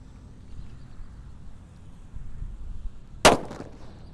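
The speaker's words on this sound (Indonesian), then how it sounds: "Lanjut kita akan menyalakan mercon yang bledosnya banter ya." A single sharp sunflower firecracker bang cuts through quiet outdoor rumble, with a brief crackling tail.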